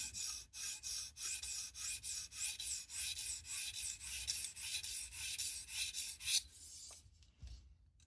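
A knife blade being sharpened on a 220 grit stone in a guided sharpening system: rhythmic rasping strokes, about a dozen even back-and-forth passes, close and steady, then stopping near the end.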